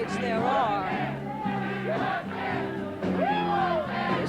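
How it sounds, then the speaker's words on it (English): A large crowd cheers and yells at a 1992 election night rally, loud, continuous shouting and whooping, with voices rising and falling in waves. "they can't hear me over the crowd"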